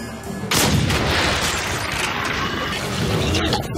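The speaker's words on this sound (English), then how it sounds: "he can shoot Nazis in the neck in slow motion" Slow-motion gunshots hit Nazi enemies in an occult World War II video game: a sudden heavy blast, then a drawn-out roaring, rumbling wash of gunfire that fills the rest of the moment.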